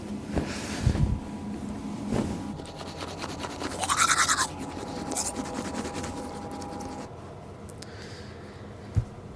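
Teeth being brushed with a toothbrush at bedtime, irregular scrubbing and scratching strokes with short pauses, fairly close, with a sharp knock near the end.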